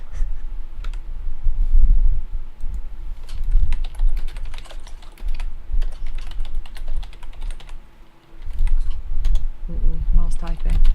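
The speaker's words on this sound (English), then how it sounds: "He's smiling and typing, you guys." Keyboard typing clatters steadily throughout, a quick irregular run of close key clicks with brief pauses, heard during a live Dungeons & Dragons game session.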